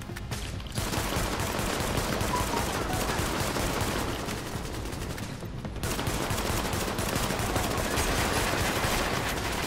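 Sustained rapid automatic gunfire in The Division, loud and nearly continuous, dropping out briefly twice before resuming at full intensity.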